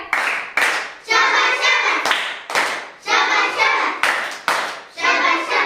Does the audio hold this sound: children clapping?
yes